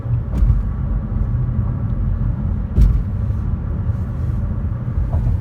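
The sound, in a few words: Manhattan street traffic, cars passing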